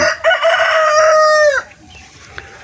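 A loud, close rooster crow rings out for about a second and a half, then trails off into quiet background with a faint cluck, among Black Australorp chickens on a farm.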